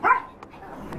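A female dog gives one short, loud bark up close at a surprise birthday party at home, followed by faint yips and a quiet background.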